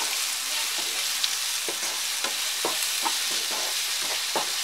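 A side dish with salt and green chilies frying in a pan, a constant hiss broken by a regular series of soft scraping strokes as it is stirred and mixed, close up and with no voices.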